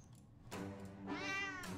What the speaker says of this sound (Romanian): Și uite, pisica.